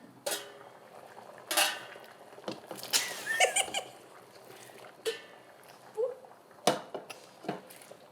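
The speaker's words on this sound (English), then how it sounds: "We ain't fighting, we stirring." A spoon scrapes and knocks against a cooking pot as a potato dish is stirred, several irregular metallic clinks and scrapes at close range with quiet pauses between.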